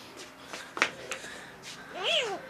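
A cartoon cat meows several times, close and clear, with one drawn-out cry at the end, while a character speaks over part of it.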